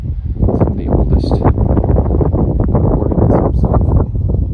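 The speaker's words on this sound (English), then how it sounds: "really windy today" Strong wind gusting through a mountain canyon among massive rock formations, heard as a loud continuous roaring buffet close on the microphone, steady throughout with no clear voices.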